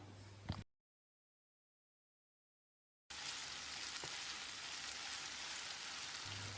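Onions sauté steadily in a hot pan, a dense crackling hiss after a short silent gap, with brief rustling of stirring near the start.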